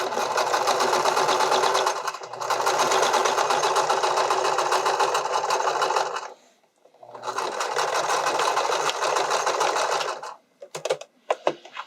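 A sewing machine stitches an invisible zipper onto stretch fabric, running loud and steady in two long bursts separated by a brief pause, then a few short stops and starts.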